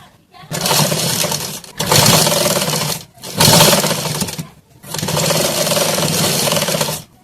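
A sewing machine stitching a strip for a katori blouse runs in three long bursts of steady whirring rattle, close and loud, separated by short pauses.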